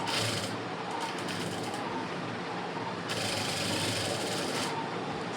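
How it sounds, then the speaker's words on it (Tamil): A sewing machine stitches an embroidered blouse, running in a steady continuous whir that brightens and quickens from about three seconds in, with no voices. "இது வளைவாக வரனால கொஞ்சம் கொஞ்சம் இடமா தைங்க"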